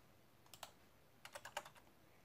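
Quick bursts of computer keyboard typing while entering a CAPTCHA: a short pair of keystrokes, then a faster run of about six clicks, faint and close with no talking.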